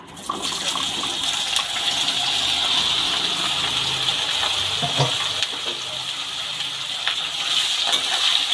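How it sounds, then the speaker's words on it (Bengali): Chopped potato, eggplant, beans and green chillies dropped into hot frying oil, a sustained hissing sizzle that stays bright and steady throughout, with a few small clatters, close by. "সব সবজিগুলো তেলের মধ্যে দিয়ে দিলাম"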